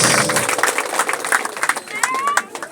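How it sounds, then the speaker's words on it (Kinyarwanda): Wedding-ceremony audience applauding in a dense, steady wash of clapping, fairly loud and sustained, with voices and cheers mixed in and a brief whistle-like tone near the end. "mukoma amashyi menshi cyane"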